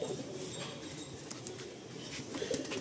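Madrasi pigeon cooing softly in a loft, a low, faint murmur under a steady hiss with a few light flutters, and no clear speech.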